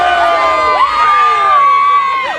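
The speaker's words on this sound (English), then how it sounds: "This is when the crowd really started to form, all with their phones out" A crowd of college students gathers outdoors, with overlapping excited voices and shouts rising and falling close by as people talk over one another.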